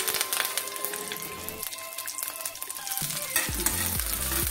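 Three dried chilies and curry leaves crackle and sizzle in hot ghee for a brinjal rasam, a dense, close, steady frying hiss with a few stirring knocks near the end.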